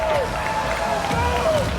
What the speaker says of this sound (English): even then I still hear the SSG chant